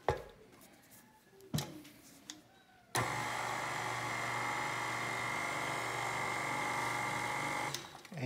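A stand mixer fitted with a dough hook kneads pizza dough, starting after a few clunks and bumps and then running at a steady low-speed motor hum and whir, fairly quiet, with no talking.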